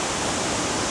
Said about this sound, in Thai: เสียงน้ำตกน้ำโตนทึ่น